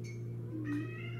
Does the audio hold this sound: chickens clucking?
no